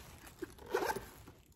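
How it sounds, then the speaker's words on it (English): Quick zip of a zipper on an Italian-made Vera Pelle leather crossbody bag, a short rasping pull under a second long after a small tap, close and fairly quiet. "Zipper."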